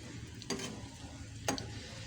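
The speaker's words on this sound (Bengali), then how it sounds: "রুটি রুটি আন্ডা ফ্রাই মানে ডিমের ভুজিয়া" Eggs fry in a pan as a breakfast scramble is made, giving a soft, steady sizzle with two distinct scraping stirs of a spatula, close and fairly quiet.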